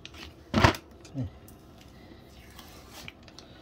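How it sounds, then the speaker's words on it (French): Adhesive tape is torn off a Laotie ES19 electric scooter tyre in one quick, loud ripping pull, followed by a softer second tug and faint crinkling handling sounds. "On va enlever le scotch."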